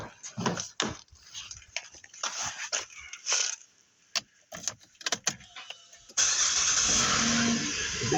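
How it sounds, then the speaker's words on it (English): Chevrolet Equinox engine cranking after a battery replacement, with scattered clicks and bumps before a sudden start at about six seconds, after which the engine settles into a steady, close idle. "The vehicle cranks right up."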